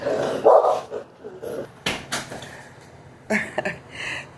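Dogs bark indoors in a home, with a few loud sharp barks near the start and later bursts of yapping, along with some household knocks and faint background noise.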